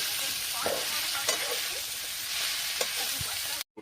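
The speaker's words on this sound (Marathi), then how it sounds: "सांगतो आणि मिरची टाकली. परतायला गेलं." Chili and curry leaves sauté in a hot pan with a loud, continuous sizzle, broken by a few scraping stirs. The sound stops abruptly at the end.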